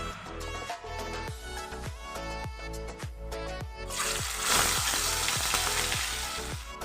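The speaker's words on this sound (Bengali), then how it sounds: "ফার্স্টে আগে আমি মাছগুলোকে ভেজে নেব তারপরে ঝোলটা বানাবো" Pomfret fish frying in hot mustard oil in a kadai, a busy sizzle broken by repeated sharp clinks and taps of a utensil, growing into a louder, denser hiss partway through.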